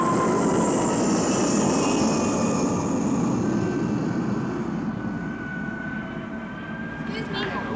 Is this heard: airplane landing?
yes